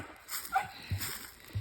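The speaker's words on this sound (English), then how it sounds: "Could you not bark with your head under the water again?" A dog barks with its head under water, giving muffled, gurgling yips and whimpers at close range over a low background.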